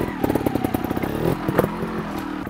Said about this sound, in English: lift that rear tire up, slip the clutch, and give it some throttle.